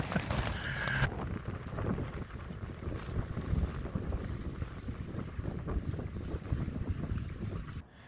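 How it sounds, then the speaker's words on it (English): Wind gusting against a camping tent during severe rainy weather, a steady loud rush of flapping fabric and broadband wind noise with microphone buffeting throughout, no voices. "That's not me shaking the tent, that's the wind at 4:30 in the afternoon."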